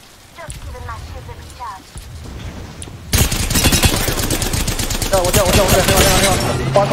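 Rapid gunfire in Apex Legends, a dense stream of shots that jumps sharply louder partway through into sustained close automatic fire, with voices talking over it.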